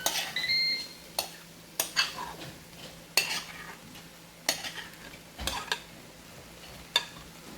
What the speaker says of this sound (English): we're going to stir that around with those vegetables